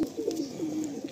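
Pigeons coo in soft, rolling low calls, several overlapping phrases running steadily and close by with no talk.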